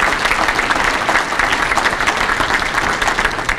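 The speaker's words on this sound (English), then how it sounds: "Can we stand up and give him another round of applause?" A crowd applauds steadily, dense clapping that stays loud and even throughout with no pauses.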